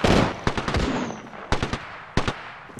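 Gunfire in the video game Apex Legends, with sharp close bursts of rapid shots separated by short pauses.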